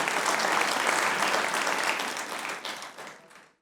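Studio audience applause at a Pakistani comedy talk show, a dense, loud burst of clapping that holds steady and then tapers off near the end, with no speech over it.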